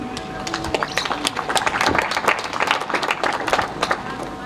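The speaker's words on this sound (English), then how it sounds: "I want to give him a round of applause" A crowd at a political gathering applauds, with uneven, fairly close clapping and scattered cheering that keeps up for several seconds, a voice or two faintly mixed in.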